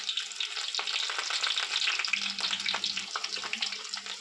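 Onions, green chillies and curry leaves fry in hot oil for a chicken curry, giving a steady, close sizzle with a few scrapes and stirs and no voices.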